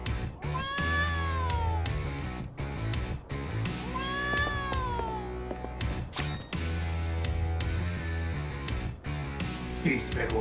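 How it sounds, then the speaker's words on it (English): A cat meowing in the video game Trials of Mana, several drawn-out rising and falling meows over game music, fairly loud and close, with a voice talking at times. "Ooh, a kitty cat."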